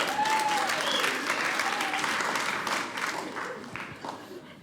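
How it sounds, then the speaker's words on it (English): A stand-up comedy crowd applauds itself, loud dense clapping with a few whoops at the start, then thinning and fading steadily over several seconds. "Round of applause for yourselves."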